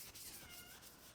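A cat gives a soft, short meow, very quiet and close, over a faint scraping, rubbing noise.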